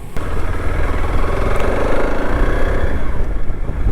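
TVS Apache RTX 300 motorcycle engine running as the ride begins, a steady close mid-pitched drone with a rough, pulsing texture throughout and no talking.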